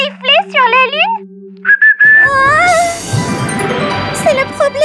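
Cartoon whistling from an animated children's mermaid show, a few bright rising and falling whistled phrases up front, then a brief held tone and a busy, noisy stretch of music and effects with more faint whistle-like slides.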